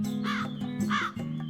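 A crow caws twice, two harsh, close calls about half a second apart over a steady low background hum.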